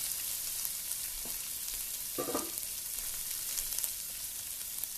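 Shrimp pan-searing in a hot pan, a constant loud sizzle close up with a couple of brief scraping or clinking touches from a utensil, no voices.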